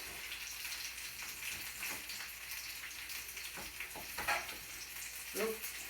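Onions fry in a pan while caramelizing, giving a faint, steady sizzling hiss broken by a few soft stirring bumps, heard up close without any talking.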